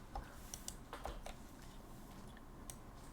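Keys on a computer keyboard tap in a short, uneven burst of quiet clicks, heard faintly over low background hiss.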